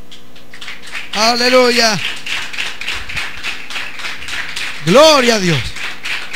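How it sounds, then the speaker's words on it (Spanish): A church congregation claps during a service, with bursts of applause under loud shouted praise from a voice. "Den un fuerte aplauso al Señor."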